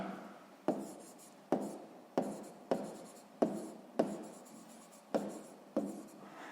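Handwriting with a pen on paper while measuring distances on a map for a sixth-grade maths exercise: ten or so crisp, evenly spaced strokes, close-up and quiet, with no voice.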